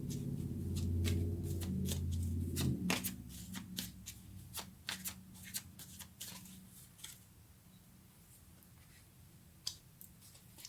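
Tarot cards shuffled by hand at close range, a dense riffling burst for the first few seconds followed by scattered crisp card flicks and taps that thin out, with no talking.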